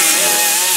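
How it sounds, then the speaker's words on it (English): An angle grinder bites into metal on a car during a twin-turbo install, giving a loud, close, continuous high-pitched grinding whine with no pauses. "Now I'm just gonna grind this a little bit"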